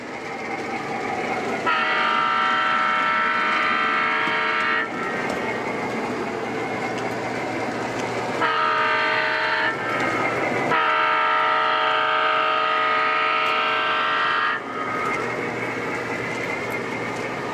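An O gauge model train rumbles along its layout track up a steep grade, its horn sounding in long tonal blasts that start and stop several times.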